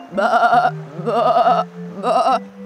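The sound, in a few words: sheep bleating in a cartoon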